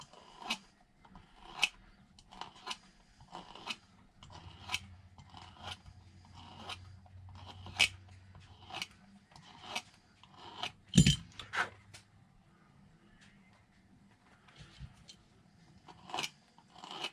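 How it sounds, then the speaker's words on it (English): A razor blade trims a slight chamfer into the edge of an RC short course tire, making a series of quiet, crisp cutting snips and rasps spaced unevenly, close up with no talking. "I take the razor and I just start putting a slight chamfer"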